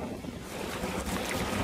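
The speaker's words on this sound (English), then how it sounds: "it's a little windy" Wind noise while sailing inside the breakwater near Georgetown lighthouse, South Carolina, a broad rushing roar buffeting the microphone, loud and steady and growing slightly stronger.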